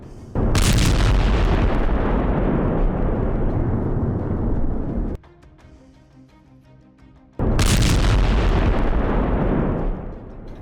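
Two massive blasts from an Israeli fighter jet airstrike on a building in Gaza, each a sudden loud boom followed by a long roaring rumble, separated by a quieter stretch of lower noise.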